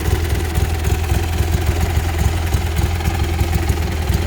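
A custom 1967 Cub Cadet 71 garden tractor engine runs steadily at a loud, close idle, its low rhythmic chug pulsing evenly throughout.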